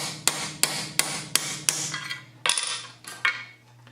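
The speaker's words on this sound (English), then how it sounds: "A punch and a hammer." A hammer drives a metal punch through a hole in a shop table, giving about eight sharp, ringing metallic strikes at a steady pace, close and loud over a low hum.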